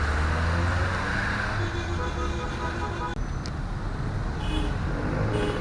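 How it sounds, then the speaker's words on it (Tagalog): Heavy rush-hour road traffic near an MRT/LRT line in Commonwealth, Quezon City, with a steady loud engine rumble and car horns tooting briefly now and then. "Sobrang traffic na oh."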